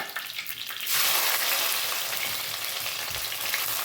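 Mustard seeds and curry leaves hit hot oil for a fish curry, a loud, steady, close sizzle and crackle that bursts in after a quieter moment and keeps frying without pause.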